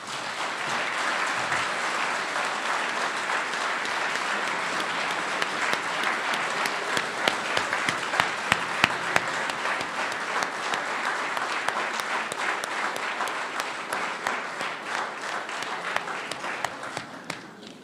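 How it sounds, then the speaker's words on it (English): Sustained crowd applause for a guest speaker at an annual general members meeting rolls on steadily for the whole stretch, with a few sharper claps popping out before it tapers off at the end. "Can we please give another round of applause to our guest speaker, Dr. Imtiaz Suleiman."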